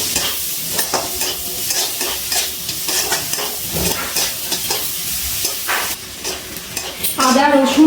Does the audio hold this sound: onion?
yes